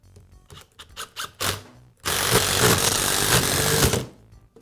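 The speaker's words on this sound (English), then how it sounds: "Now reinstall the screws that secure the gearbox to the motor housing." A Milwaukee impact wrench being reassembled, with screws driven to secure the gearbox to the motor housing: scattered small clicks and handling noises, then a loud steady two-second whir of a power driver spinning screws in.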